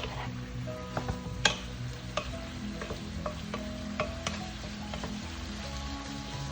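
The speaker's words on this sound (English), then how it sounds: "Give that a stir. A little saute." Jackfruit is stirred and sautéed in a hot pan, with a steady low sizzle and scattered spoon clicks and scrapes, close and moderately quiet.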